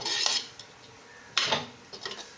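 A utensil stirs a carrot stir-fry in a pan, giving a few sharp scraping clacks of metal against the pan separated by quieter sizzling gaps.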